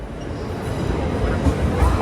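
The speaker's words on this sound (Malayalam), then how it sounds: "അപ്പോൾ ഇതാ ട്രെയിൻ എത്തിയിട്ടുണ്ട്." A train pulling into a station on a trip from England to Scotland, a steady low rumble that grows slightly louder while people talk nearby.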